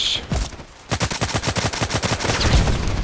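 Automatic gunfire in the online shooter Contract Wars, one early shot followed by a rapid, evenly spaced burst of loud close rounds lasting about two seconds.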